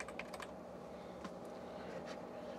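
Soft, quick keystrokes on a USB keyboard hooked up to a Classic Mac, a few brief bursts of typing over a steady low hum, faint and close.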